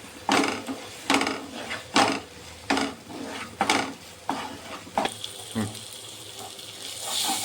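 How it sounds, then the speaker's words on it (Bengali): Spices with poppy seed paste being stir-fried in a pan for a Bengali pomfret fish dish, giving repeated close scraping and stirring strokes in an uneven rhythm, with a soft sizzle between them. "পোস্ত বাটা দিয়ে আবার একটু কষিয়ে নেব"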